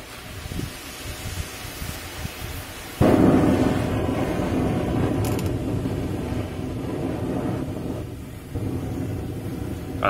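A homemade calcium nitrate and sucrose rocket motor in an aluminium-lined cardboard shell fires with a loud, steady roaring hiss that starts abruptly and holds for several seconds, with gas venting from both ends.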